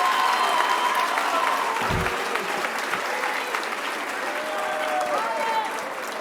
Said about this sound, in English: Let's give these students a nice round of applause.